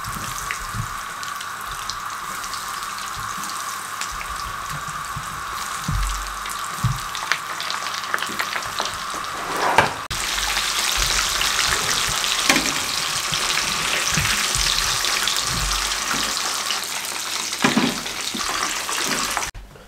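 Chicken cheese fingers frying in hot oil until golden brown, a steady close crackling sizzle throughout that grows denser and louder partway through, with occasional pops and clinks.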